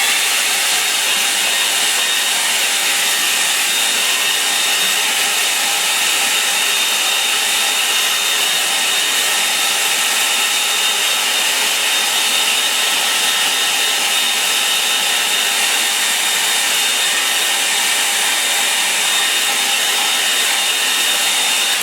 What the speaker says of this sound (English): use a hairdryer